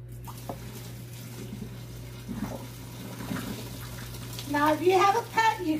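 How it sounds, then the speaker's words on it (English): Boiled potatoes lifted out of their cooking water in a kitchen, with gentle sloshing and splashing that grows louder near the end over a steady background hum. "So let me go ahead and get these out of the water"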